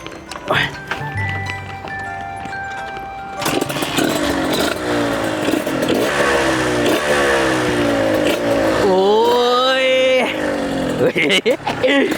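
A trail motorcycle engine revs up close and loud, its pitch climbing and sweeping through repeated throttle bursts and falling back, with voices talking over parts of it.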